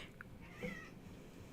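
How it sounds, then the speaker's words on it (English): A house cat gives a short, faint meow close to the microphone within low background noise, part of a squabble between cats indoors. "My cat is like mad. I don't know. They're fighting."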